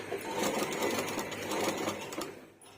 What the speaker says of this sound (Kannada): ನೀಟಾಗಿ ಸ್ಟಿಚ್ ಮಾಡ್ಕೊತಾ ಇದ್ದೀನಿ